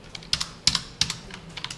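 Keys clack on a computer keyboard during a Korean PHP blog tutorial about MySQL table settings, a few crisp, close taps spaced unevenly with quiet gaps between, no speech.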